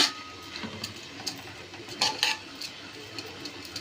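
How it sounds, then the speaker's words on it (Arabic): Vermicelli and rice stirred in a pot of onion-flavoured oil for Egyptian koshari, with scattered light clinks and scraping taps of a spoon against the pot, irregular and close. "نقلب كده الشعريه مع الرز"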